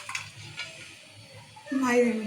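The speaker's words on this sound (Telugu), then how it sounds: "పువ్వు స్టార్ పువ్వు సగం వేసిన నాలుగు లవంగాలు ఇవన్నీ వేయించుకున్నాం" Whole spices, shahjeera, a thin piece of cinnamon, half a star anise and four cloves, fry in a pan with a soft sizzle and occasional stirring scrapes, while a voice talks and hums over it.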